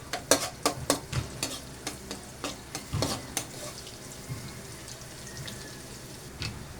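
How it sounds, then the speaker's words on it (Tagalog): Garlic sautéing in a pan for a chicken dish, with a soft sizzle beneath repeated sharp scraping stir strokes, loud and rhythmic at first, then fading to sparser clinks. "Isa natin sa pagisa ng bawang."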